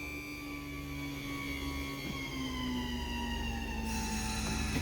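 Motorized leveling jacks on a 2017 Grand Design Momentum fifth wheel retracting, a loud steady electric motor whine that slowly drops in pitch, continuous and close, with no talk.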